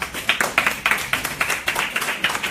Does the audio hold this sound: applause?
yes